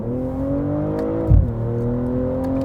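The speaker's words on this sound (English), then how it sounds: "Little downshift and rip." A 2022 BMW M240i engine drones steadily under load, then gives a quick sharp rev blip as it downshifts and pulls hard again, close and without speech.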